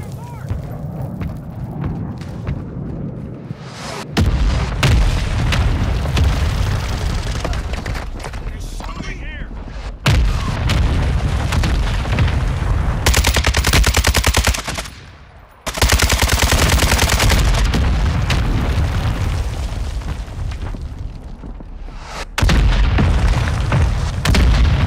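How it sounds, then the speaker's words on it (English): Heavy booms and gunfire from a Call of Duty Warzone quads match as a mortar strike lands, with loud sustained blasts in several bursts and brief gaps between them, under game radio voice callouts. "Friendly mortar strike inbound."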